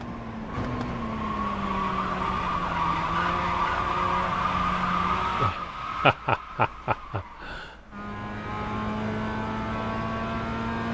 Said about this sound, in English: I'm not trying to scrub those tires that much.